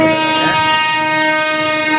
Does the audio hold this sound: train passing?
yes